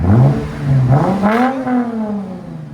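Lexus IS 250 with its 2.5L engine revving hard through an aftermarket exhaust, a deep swelling tone that climbs and falls across repeated blips, loud and close with no talking.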